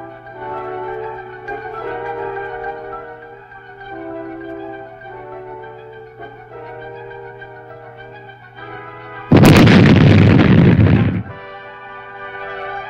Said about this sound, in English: these mines were destroyed by demolition experts using charges of plastic